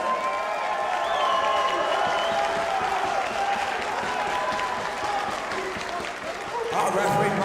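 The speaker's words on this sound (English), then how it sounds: "give a huge round of applause to both fighters this evening for an impressive main event" A fight-night crowd applauds both fighters after a main event bout, sustained loud clapping and cheering as a voice speaks over the noise throughout.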